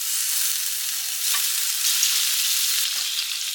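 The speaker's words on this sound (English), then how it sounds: "So I'm going to put down some butter." Butter sizzling on a hot griddle: a loud, continuous hiss with soft crackle, steady throughout and heard alone without voices.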